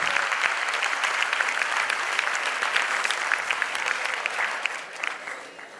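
An audience at the Drishti 2k15 debate competition at Sri Balaji Society breaks into sustained clapping, a thick, even crackle of many hands that fades slightly near the end.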